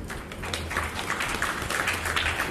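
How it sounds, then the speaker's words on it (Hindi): An audience applauds at a spiritual talk in Bhorgarh, a steady, dense patter of many hands clapping close by for a couple of seconds, with a faint voice underneath. "सही जवाब है। तालियां बजाओ।"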